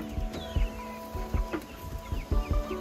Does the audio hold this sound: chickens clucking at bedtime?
yes